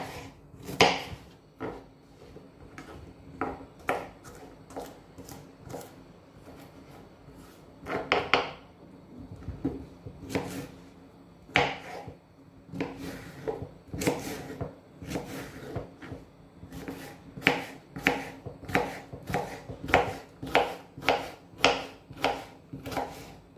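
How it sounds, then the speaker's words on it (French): A knife chops vegetables into tiny cubes on a cutting board for vegetable lasagne, giving many sharp, close knocks in irregular bursts with short pauses, steady throughout with no talking. "je vais les couper vraiment en petits morceaux pour qu'ils puissent bien cuire assez vite dans la poêle"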